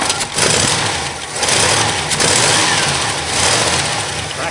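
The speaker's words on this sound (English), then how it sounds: "Choke doesn't open properly. I gotta floor it to open the choke." Old car engine floored repeatedly to open a sticking choke, loud roaring revs surging and dipping in quick waves, close and raw with no talk.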